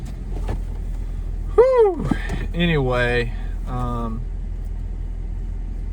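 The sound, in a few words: truck engine idling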